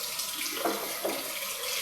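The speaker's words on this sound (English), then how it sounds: "Tonight's shower." Shower water running at a campsite during an outdoor gear trip, a continuous broadband hiss of falling water, steady and fairly close, with no talking.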